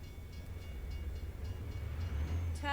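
A train rolls past in the American Truck Simulator driving game, a steady low rumble that holds at close range for about three seconds, with a brief tonal, horn-like burst at the very end.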